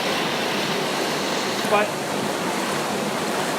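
Water pours from a dam into the tailwater that flows out to a bay, making a loud, steady broadband rush that fills the whole scene, with a brief word spoken over it.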